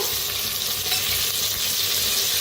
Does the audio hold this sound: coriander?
yes